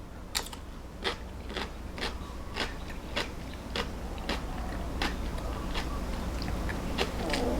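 Pickled daikon (takuan) crunched close to the ear in a steady series of crisp bites and chews, about a dozen evenly spaced crunches over a low background hum.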